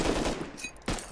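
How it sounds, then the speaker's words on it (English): A shotgun trap fires in the survival game Rust, loud, blunt blasts up close, one heavy burst at the start and a second sharp report near the end. "Did he not see the shotgun trap?"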